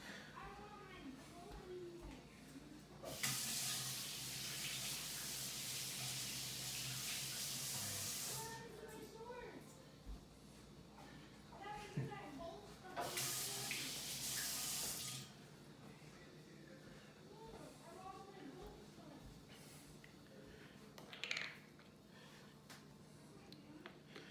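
A kitchen faucet runs in two bursts of steady hissing water while something is rinsed off during chili cooking, with indoor clatter and a brief clink between them.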